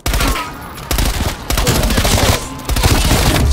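Rapid gunfire in the video game Call of Duty: Black Ops Cold War rattles out in loud, dense automatic bursts that run almost continuously, broken by a few brief gaps.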